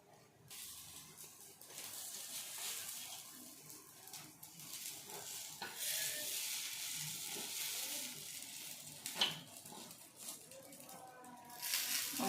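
Gunta ponganalu frying in a pan and being turned one by one, a steady bright sizzle with small clinks and scrapes as each is flipped, close and continuous.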